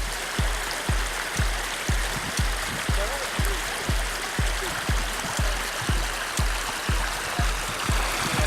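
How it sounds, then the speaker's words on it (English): Meltwater from the melting Turner Glacier streams past close by, a steady rushing flow with a regular rhythmic slapping pulse running through it, continuous and loud with no voices. "there's a phenomenal amount of meltwater that's coming off the Turner Glacier"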